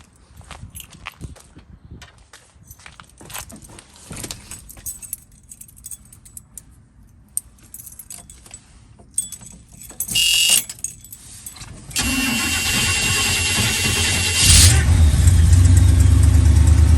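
Keys jangle close by before a 1979 Camaro's engine, fitted with a new four-barrel Holley carburetor and fresh spark plugs, cranks and catches. It settles into a loud steady run and then rises in a rev.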